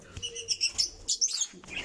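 Pet birds in an aviary give quick, bright chirps and tweets in short bursts, close by and alternating with brief pauses, without any talking.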